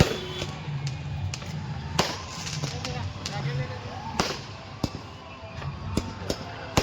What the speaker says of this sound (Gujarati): ફટાકડા પણ ફોડી નાખ્યા છે બધાએ